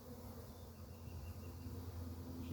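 Honeybee colony buzzing while being moved from a swarm trap into a new hive, a faint, continuous low drone of many bees that holds steady and swells slightly toward the end.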